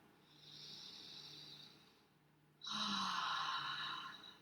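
Two audible breaths during yoga, one softer airy inhale and then a louder, fuller deep breath in, close and alone.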